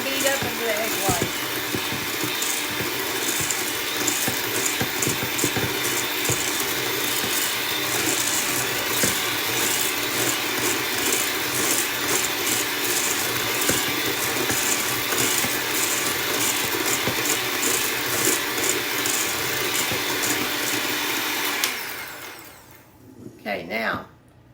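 Egg whites and sugar whipped for pie meringue with an electric mixer, a steady, loud whirring drone running continuously for over twenty seconds before cutting off, with a voice talking over it.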